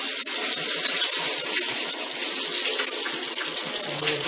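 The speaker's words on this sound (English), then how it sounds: "So observe the flow of the water here. It's quite a very good flow" Strong, steady rush of water pouring from an outdoor tap on a house with galvanized pipes, a constant full flow running alone at close range with no voices.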